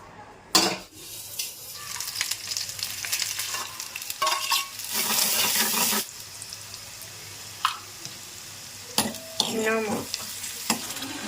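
Garlic, ginger and onion sizzling in hot oil for a tomato chutney served with momos, with loud bursts of frying and stirring, brief clanks, and short spells of running water from a tap.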